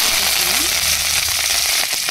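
Chopped green chillies hitting hot oil in a pan while cooking a brinjal curry, giving a steady close sizzle with crackling pops throughout.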